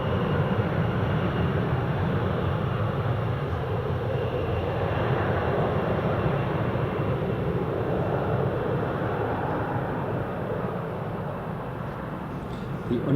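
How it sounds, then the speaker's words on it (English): A Loganair Embraer 145 jet departing from Newcastle International Airport gives a broad, steady roar of engine noise throughout, heard from a moderate distance and fading slightly toward the end. "Loganair Embraer 145. It's lined up and ready to go."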